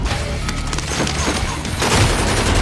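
A shotgun blast in Call of Duty gameplay lands amid a dense, noisy mix of gunfire and explosions, loud booms and crashes layered over constant background game noise.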